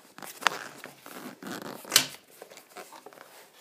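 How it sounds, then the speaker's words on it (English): Zipper pulled open on a headphone case, close and crisp, with two sharp rasping zips, the second louder, amid soft handling rustles and no talk. "Let's unzip this."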